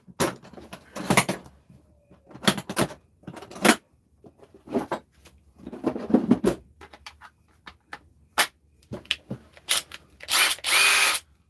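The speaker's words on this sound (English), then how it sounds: "so this power tool, right, with a battery, like this impact driver" A battery impact driver fires in several short bursts separated by pauses, close by, with a final longer, harsher whir at the end.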